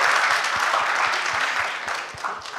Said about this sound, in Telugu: క్లాప్స్ కొట్టండి, ఎంత ఐడియాస్.